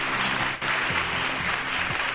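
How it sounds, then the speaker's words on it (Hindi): A studio audience on a Pakistani morning television show claps loudly and steadily, with a brief dip partway through, over low background music. "बहुत सारी तालियां होनी चाहिए बिनीता डेविड के लिए।"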